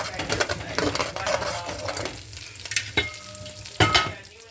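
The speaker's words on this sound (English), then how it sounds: "So here I have my egg on the fire, making some fried rice." An egg fries in a pan on the fire for shrimp fried rice, giving a close, busy sizzle that softens midway, broken by sharp clinks of a utensil stirring against the pan.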